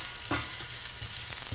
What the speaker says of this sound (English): Lean into the sizzle, babe. Get the chat, the good sound of the sizzle.